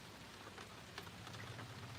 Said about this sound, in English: I don't know if you can hear the rain in the background.